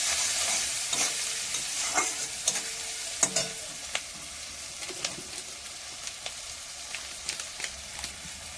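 Masala with salt and turmeric fries in a pan, a low continuous sizzle punctuated by sharp spoon scrapes and taps against the pan at irregular intervals, close and unaccompanied by speech.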